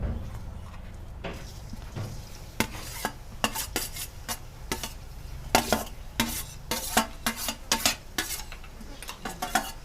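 Grated carrots stirred in hot ghee in a pan for gajar halwa, with a steady low sizzle under repeated close, sharp spoon scrapes and clinks against the metal, and no talking.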